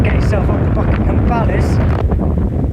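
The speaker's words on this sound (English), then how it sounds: "So a bit windy" Wind buffets the microphone outdoors in open countryside, a steady loud low rumble of gusts throughout, with faint talk.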